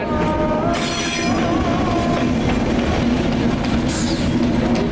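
A train rumbles past continuously and loudly, with wheels squealing and screeching over the steady rolling noise.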